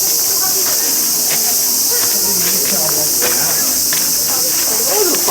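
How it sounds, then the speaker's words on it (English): Insects on a hill in Nara, Japan keep up a loud, continuous high-pitched shrill drone, with fainter rustling and scattered nearby sounds beneath it. "The insects are back."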